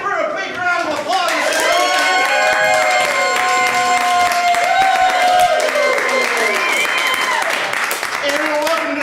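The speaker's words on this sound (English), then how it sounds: "And give her a big round of applause." A studio audience at a live game-show stage event bursts into sustained applause and cheering, with bright music playing along and crowd voices mixed in throughout.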